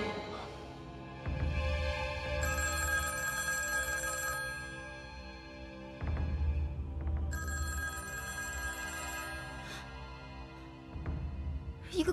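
An old-style telephone bell rings repeatedly in a quiet house at night in Republic-era China, long ringing bursts separated by short pauses, going unanswered, with no talking.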